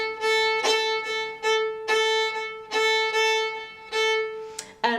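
A fiddle plays a steady run of straight, evenly bowed eighth notes for jig bowing, with crisp repeated bow attacks at a lively pace. The playing is solo and close.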